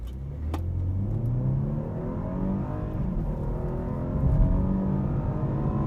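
A BMW 2 Series Coupe with a 2-litre engine accelerating, a close, steady engine growl with rising revs and a throaty rumble that swells louder toward the end, heard alone from inside the car.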